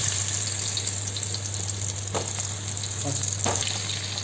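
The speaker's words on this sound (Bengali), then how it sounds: "তো তেলে একটু আমরা আলুগুলো ভেজে নিচ্ছি," Potatoes coated with turmeric and salt fry in hot oil for biryani, giving a steady, dense sizzle up close with a couple of soft stirring scrapes partway through.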